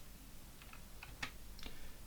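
Keys on a computer keyboard are pressed while working in Lightwave 3D's Graph Editor, giving a handful of faint, separate clicks spread over about two seconds above a low, steady hum.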